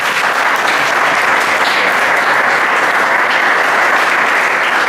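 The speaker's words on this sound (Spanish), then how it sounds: "Un aplauso para ellos." At a comics conference in Valencia, an audience gives steady, loud, unbroken applause for two comic artists seated at a panel table, with no voices standing out.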